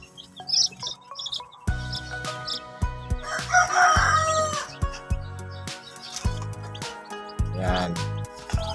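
Mixed flock of Rhode Island Red, Black Australorp and Isa Brown cross chickens, a rooster crowing repeatedly close by amid clucks and chirps, with no talking.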